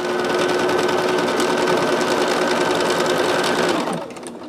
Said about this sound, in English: So I may just speed sew here.